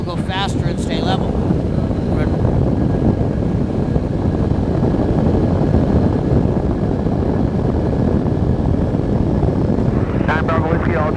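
A small propeller aircraft drones steadily in flight with dense, loud engine and wind noise, as a voice talks briefly at the start and end.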